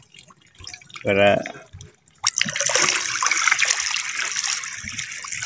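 Water draining from a fish tank holding Ruby Nose Platy fish, a steady broadband rush and trickle starting abruptly midway and continuing to the end, close and fairly loud, following a brief spoken word.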